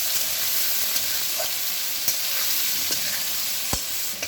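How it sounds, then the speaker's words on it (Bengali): Salted, turmeric-dusted potatoes sizzle in a hot oiled pan as a utensil stirs them, with several sharp scraping clicks standing out over the continuous frying. "এবার ভালো করে আলুটা ভেজে নেব।"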